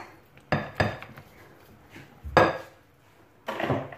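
A utensil mixes savory crepe batter made with half the flour in a bowl to work out the lumps. A few sharp, close clinks and scrapes land at uneven intervals against a quiet background.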